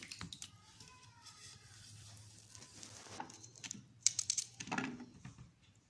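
Knife chopping cleaned fresh turmeric root into small pieces on a board, quick irregular taps and clicks building toward the end, close up with faint background noise.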